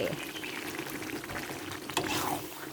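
Pork massaman curry with pineapple and carrot simmers in a pot, giving a steady close bubbling and gentle liquid churn throughout, with a faint voice in the background.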